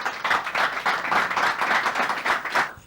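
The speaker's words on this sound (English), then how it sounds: "A round of applause for her." Audience clapping at an oratory competition, a lively, fairly close burst of many hands with a clear, uneven rhythm that stops abruptly at the end.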